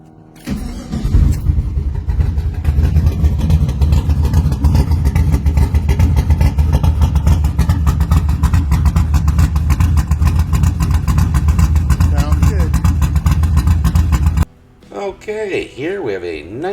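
A pro street car's engine starts and revs hard, a loud, steady throaty roar for about fourteen seconds that then cuts off, leaving voices talking nearby.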